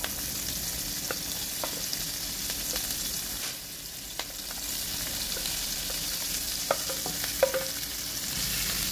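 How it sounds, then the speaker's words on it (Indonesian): Ginger, galangal, lemongrass and bay leaves sizzle in hot oil in a wok-style pan, a steady close hiss with occasional small crackles and stirring taps, no talking. "selanjutnya kita panaskan minyak. Pertama, saya masukkan jahenya dulu, kemudian lengkuas. Nah, saya juga masukkan serai, daun salam, dan semua bahan-bahan"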